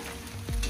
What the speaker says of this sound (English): The yellowtail we're frying it. It's just butter, Mrs. Ball's chutney, plenty of it